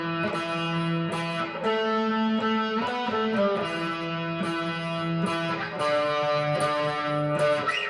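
Electric guitar run through distortion and effects plays the intro of a song: sustained, ringing notes moving in a slow, steady melodic line, loud and alone with no talking.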